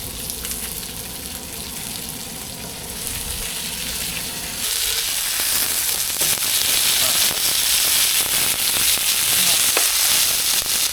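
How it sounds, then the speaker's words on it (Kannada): Chilli fish fry cooking in hot oil, a loud continuous sizzle and crackle that grows brighter and more intense about halfway through, dense spattering throughout. "ಅಂದರೆ ಖಾರದ ಪುಡಿ ಹಾಕಿ ಫಿಶ್ ಫ್ರೈ ಮಾಡಿರೋದು"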